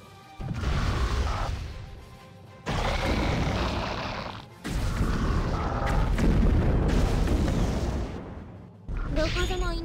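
The main gun in the Abyss Horizon game loads and fires several times, each shot a heavy booming blast with mechanical clanks that rumbles on for a second or two. Loud repeated shots come close together with short pauses between them.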